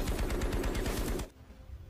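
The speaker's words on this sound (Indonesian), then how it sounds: "beberapa tembakan muncul dari dalam kamar" Rapid automatic gunfire bursts from inside a room in the film Spectral, a dense loud rattle of shots that stops abruptly after about a second and a quarter, leaving a faint lingering rumble.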